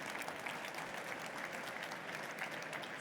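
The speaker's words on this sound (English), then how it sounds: "Give them a warm round of applause." Audience at a construction-industry panel session applauding the speakers on stage, a dense, even round of clapping from many people throughout, fairly distant and steady.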